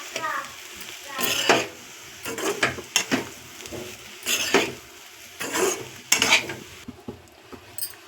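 Meal maker curry being stirred in a pan after chili powder is added, with a spoon scraping and clinking against the metal in repeated strokes, close and clear, with faint sizzling underneath.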